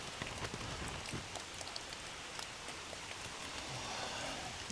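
Steady rain falls across the grounds of a Japanese temple, a dense, even hiss of drops pattering on surfaces, close and continuous with no voices.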